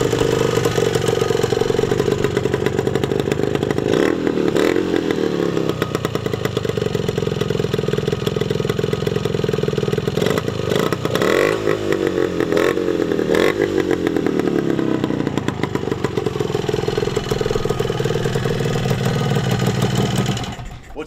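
A freshly rebuilt 1971 Yamaha DT1MX 250 motorcycle engine with oil injection runs steadily and loudly close by, its rough two-stroke rattle holding a constant idle with brief revs.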